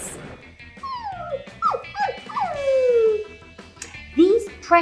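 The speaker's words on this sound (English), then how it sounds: "adorable little puppies." Small puppies whimper and yip in high, rising and falling cries, several overlapping whines close by with short sharp yelps near the end.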